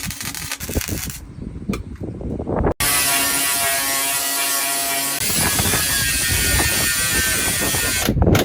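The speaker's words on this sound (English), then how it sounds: "And now Liam's helping me take the doors off" Tools remove the doors from a stripped Honda Civic EF9: rapid clicking ratchet strokes, then a sustained whirring power tool running loud and close for several seconds.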